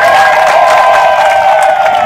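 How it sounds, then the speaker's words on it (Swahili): Audience at a public gathering in Kigoma applauds TPA with loud, steady clapping and cheering that fills the whole stretch, with a faint tonal hum running underneath. "Tuwapigie makofi TPA."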